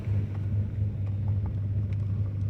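An off-road vehicle engine on a mountain trail, with hill descent control on and the throttle pressed, gives a steady, heavy low rumble that never rises into a rev, close and continuous throughout.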